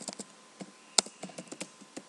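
Typing an SQL command on a computer keyboard: quick, irregular key taps close up and fairly quiet, with one sharper, louder keystroke near the middle and no voices.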